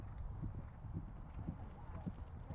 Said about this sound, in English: And you may trot. Close your knees and trot.